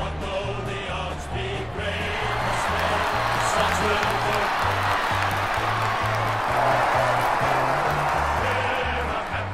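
A stadium crowd in the Australian football game AFL Evolution keeps up a steady, broad roar throughout, with a thumping rhythmic music beat running underneath and no distinct individual cheers.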